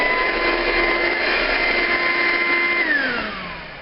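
An Electrolux Z166 Multivac vacuum cleaner motor runs with a steady, loud whine throughout, its pitch dropping slightly as it begins to wind down near the end.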